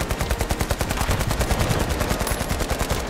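Gunfire from a sniper rifle in the video game The Finals, heard as a dense, rapid, loud stream of shots that continues without a break, with no voice over it.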